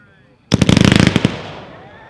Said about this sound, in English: Number 8 is an instant slice, 13-shot, special green strobe meteor with green strobe mines